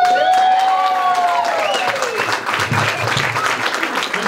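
Audience applause for youth and community activists at a community campaign launch, a dense, loud burst of clapping with some cheering, continuing steadily throughout, with a voice audible over it at the start.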